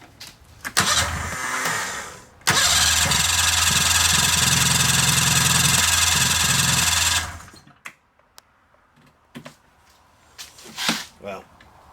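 A 1997 Polaris Indy Classic snowmobile engine cranks, catches and runs loud and close for about five seconds with a rough, buzzing two-stroke idle, then cuts out, followed by quieter handling noises.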